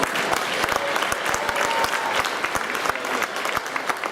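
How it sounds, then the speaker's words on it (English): A crowd claps steadily, a dense patter of applause with sharp individual claps standing out, continuing for several seconds. "a nice round of applause for our 5 finalists"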